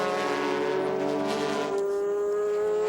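A Ferrari GT300 race car drives on the Motegi circuit in a Super GT race, its engine a loud, steady, harmonic-rich whine that holds and then shifts pitch as it passes, close and continuous.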